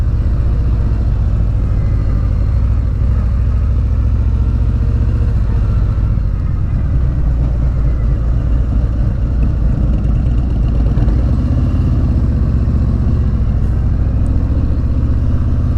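Motorcycle engine droning steadily while riding across Fontana Dam, a loud, continuous low rumble mixed with wind noise and no pauses.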